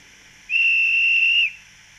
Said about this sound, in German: Der Schaffner pfeift den Zug ab.